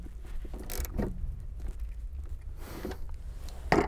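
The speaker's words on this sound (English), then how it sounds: "And take our ratchet, size 14 socket." Ratchet with a 14 mm socket tightening a seat bolt in a 2013 Honda Accord, quiet close clicking and mechanical creaks in short irregular bursts, with no talking.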